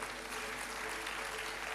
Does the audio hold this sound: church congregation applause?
yes